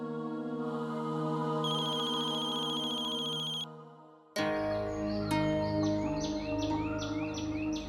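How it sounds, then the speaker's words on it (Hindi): Electronic telephone ringtone in a home drama, a steady repeating tone that switches partway to a brighter chirping ring pattern, loud and close, ringing on without being answered. "अक्षरा फोन ही नहीं उठा रही है, पता नहीं क्या बात है।"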